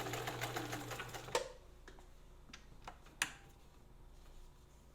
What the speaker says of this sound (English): I can slow down my sewing speed like you're seeing here, or I can speed it up